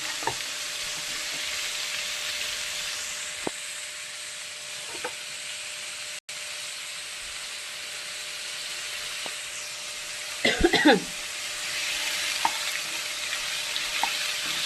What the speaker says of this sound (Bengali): কালো জিরেটা দিয়ে দিলাম। নাড়াচাড়া করবো।